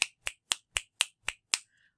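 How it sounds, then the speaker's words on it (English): Seven crisp finger snaps in an even, steady rhythm about a quarter second apart, close and clear against silence, played as a gentle raindrop pattern. "Maybe your peaceful raindrops will be snaps."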